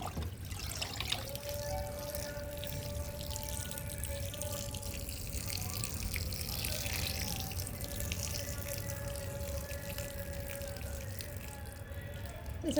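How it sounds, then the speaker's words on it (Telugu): Water is poured gently onto sprouting plants, a quiet continuous trickle and splash held steady for several seconds under faint background hum. "వీటికి మనం ఇప్పుడు చక్కగా కొద్దిగా వాటర్ వేసుకుంటాం."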